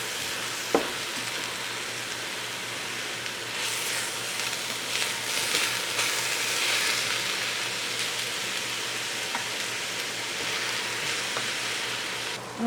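Ground beef browning in a hot pan for an Italian meat sauce (ragu), broken up with a chopping utensil, gives a steady close crackling sizzle throughout, with a few brief scrapes or taps from the utensil and no talking.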